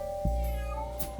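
A cat meows a few times, fairly faint, over a steady electronic hum and low background noise, with no talking.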